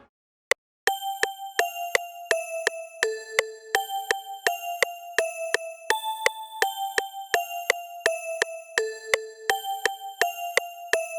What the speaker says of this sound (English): Kind of sounds like the breath bell,